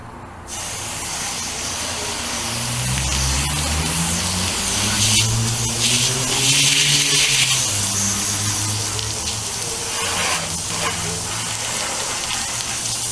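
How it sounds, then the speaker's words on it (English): Water sprays and gushes over a 1962 Cadillac door coated in paint stripper, a steady loud hiss that swells and fades as the stream moves across the metal for about thirteen seconds. "Clean it off good with water."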